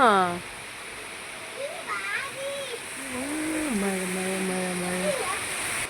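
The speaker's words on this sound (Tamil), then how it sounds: "சூப்பராக பெய்யுது மழை" Heavy rain pours down in a constant broad hiss, while a person talks over it for most of the stretch.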